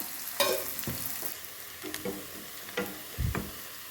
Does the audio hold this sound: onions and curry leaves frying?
yes